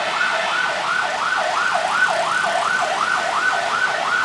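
Ambulance siren wailing on a Thai road, a steady rapid rising-and-falling cycle that is loud and continuous throughout, with no talk over it.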